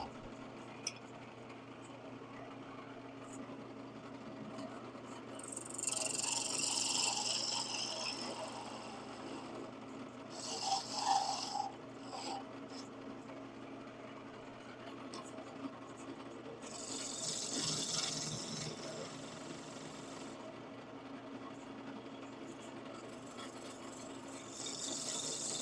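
Wooden tenon on a finial being turned between centers on a lathe, with a low steady motor hum and several bursts of scraping, rasping cuts as the tool sizes the tenon.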